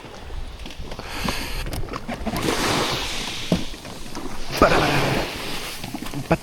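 A jet ski bounces through choppy ocean waves, with a rushing engine, repeated slaps and splashes against the water, and heavy wind buffeting close by.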